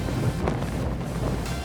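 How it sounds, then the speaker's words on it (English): Strong wind buffets a boat on Doubtful Sound, New Zealand, a loud continuous roar of wind noise with gusting swells and water rushing beneath, no voices. "very windy and blowing us over"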